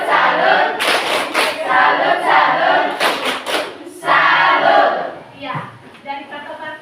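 Indonesian classroom of pupils doing a rhythmic clapping salute, loud group claps and shouted chanting in bursts with pauses, a teacher's voice leading between them.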